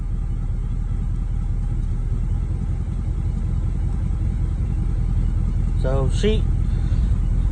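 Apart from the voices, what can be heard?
1989 Camaro engine idling after cold start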